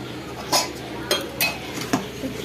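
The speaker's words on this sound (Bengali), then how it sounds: "কড়াই বসিয়ে দিয়েছি, তেল দিয়ে দিয়েছি।" A few metallic clanks and clinks as a wok with oil is set down and shifted on the stove, sharp and close, with quiet moments between.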